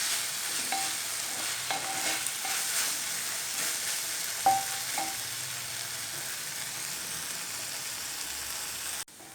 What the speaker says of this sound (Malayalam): അപ്പോൾ നെയ്യിൽ കിടന്ന് ഇതെല്ലാം നന്നായിട്ടൊന്ന് വഴന്നു വരട്ടെ.